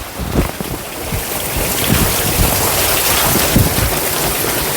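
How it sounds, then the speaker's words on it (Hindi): Heavy rain pours down steadily, a dense broadband hiss with scattered low thumps and gusty rumbles, loud and close throughout. "पूरा बारिश हो रहा है,"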